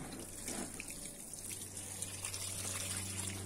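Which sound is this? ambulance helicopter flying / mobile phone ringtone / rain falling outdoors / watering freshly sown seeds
watering freshly sown seeds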